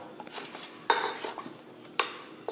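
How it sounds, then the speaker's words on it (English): A spatula scrapes down the paddle and bowl of a stand mixer holding chocolate chip cookie dough, giving a few close clattering knocks and rasping scrapes against the metal, with no voices. "Scrape down the paddle."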